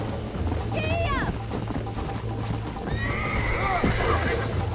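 In the video game Red Dead Redemption a horse whinnies twice, once early and once later in the clip, over game sounds and hoofbeats while people talk.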